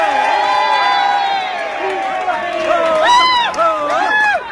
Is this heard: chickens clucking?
no